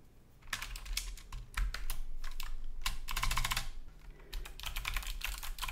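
Typing on a Logitech MX Mechanical Mini keyboard with modified stems, a dense run of close, loud key clacks in quick bursts with short pauses between them and no voices.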